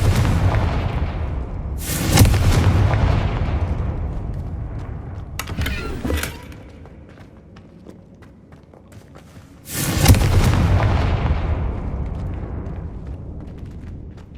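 Confringo fire-blast spells detonate in the Hogwarts Legacy video game, three heavy booming explosions with long rumbling decays, loud and alone without talk.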